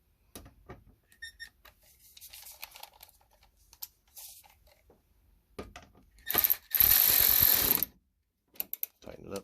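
Headlight mounting being tightened on a Saab 9-3 Viggen, with close, scattered ratchet clicks and mechanical handling sounds, plus a louder burst of rapid ratcheting near the end.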